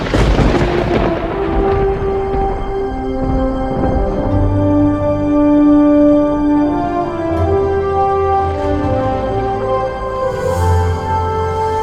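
Thunderstorm in a film trailer: deep rolling thunder booms with a rumbling low end, layered under a sustained orchestral score with swelling tones, loud and continuous without speech.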